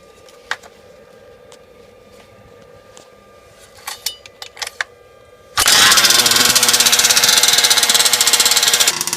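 After a few soft clicks and taps, a 5th scale RC petrol engine being broken in fires up abruptly and runs loud and steady, with a buzzing, rapid beat that fills the rest of the stretch.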